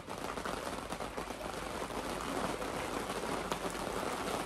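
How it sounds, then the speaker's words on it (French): Light rain shower falling steadily at a campsite in the south of France, a continuous even patter of drops on surfaces with no talk. "Bah il pleut."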